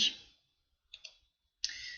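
A few crisp computer keyboard key presses, close and clear: a hard click at the start, a quick double tap in the middle and another press at the end, with silence between.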